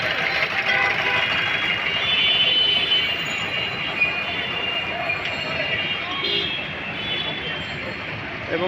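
Metro rail passing through Mirpur 10 in Dhaka: a continuous rolling rumble and broad hiss of the train, steady and close, with a bright metallic squeal over city background noise.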